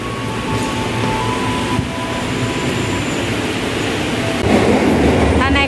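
Commuter train at Tebet railway station in Jakarta, a loud steady rumble of rolling railcars along the platform with a brief squeal near the end, and a person talking over it.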